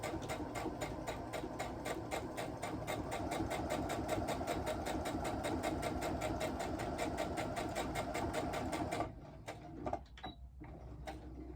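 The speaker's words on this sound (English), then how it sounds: "I'm just going to stitch that down there" A sewing machine stitching down a seam on a fabric box, a steady, fairly quiet mechanical whir with even rapid pulses for about nine seconds before it stops and a few faint handling sounds follow.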